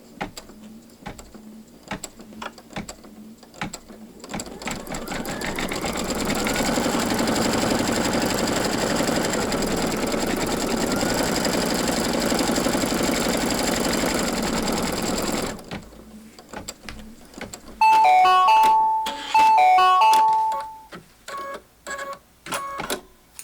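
An embroidery machine stitches a placement line for a bunny pillow ear, a steady mechanical whir running about ten seconds, followed by sharper, louder rapid stitching bursts and a few clicks near the end.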